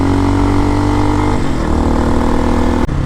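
A 2023 Hawk X 250 motorcycle engine drones steadily while riding, its pitch shifting partway through and dropping near the end, with no talk.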